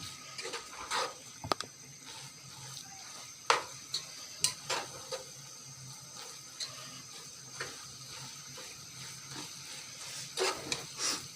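Spatula scraping and stirring beef chow mein in a pan, a run of light irregular clinks and taps under a faint sizzle, close and fairly quiet, with no voices.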